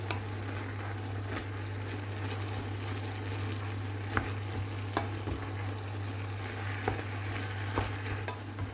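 Minced pork and shallots being stir-fried for Thai basil pork give a soft continuous sizzle with occasional scraping knocks of a spatula in the pan, steady and close.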